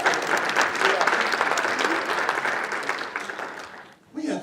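Audience applause after remarks at a mentoring event, a dense, sustained wash of many hands clapping close by that fades out near the end before a voice resumes.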